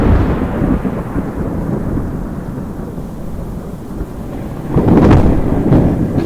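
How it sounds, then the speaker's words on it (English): Loud, deep thunder rumbles continuously, swelling into a heavier crashing roll near the end. "the thunder was booming at this point."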